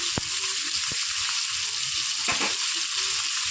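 Ginger paste sizzles as it goes into hot oil in a pan and is stirred, with a steady close frying hiss and a few sharp scraping clicks of the spoon, while prawns cook with pumpkin leaf paste.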